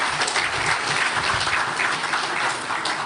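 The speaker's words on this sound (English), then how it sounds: "Let's clap for the champions." Delegates at a football association congress applauding the league champions, a dense, loud wash of clapping that holds steady throughout.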